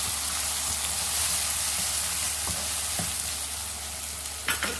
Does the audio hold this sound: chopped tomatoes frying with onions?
yes